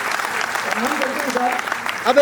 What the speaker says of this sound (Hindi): तो बजा सकते हैं आप तालियां।